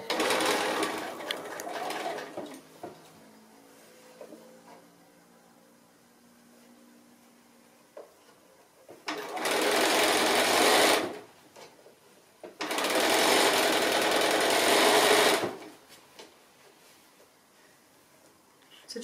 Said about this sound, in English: we're just going to stitch with our 1/4 inch seam allowance all the way around